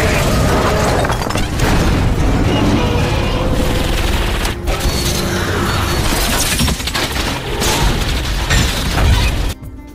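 Explosions and gunfire from a fighter jet strafing a truck in an action film, a loud, dense barrage of blasts, shattering debris and rapid bursts layered continuously, with a brief drop near the end.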